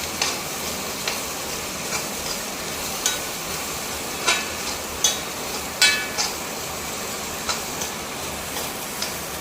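Chili and coriander dry-roasting in a pan while being stirred, giving a soft steady sizzle broken by scattered light clicks and scrapes of the spoon against the pan, with no one talking.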